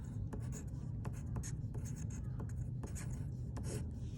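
A math problem on decimal multiplication being written by hand. There is soft, continuous scratching of a pen or pencil on paper, with brief tapping strokes at an even pace, close and quiet over a low room hum.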